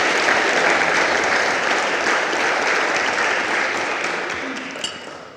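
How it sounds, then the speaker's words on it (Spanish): A Spanish-speaking church congregation applauds during a sermon, a loud, sustained, dense wash of clapping from many people that tapers off near the end. "lo aplauden a Él porque es lindo"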